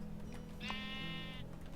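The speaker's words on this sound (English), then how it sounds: "Hello, sheep." A single sheep bleat from the video game Minecraft, one drawn-out nasal cry of about a second, heard faintly over a low steady background hum.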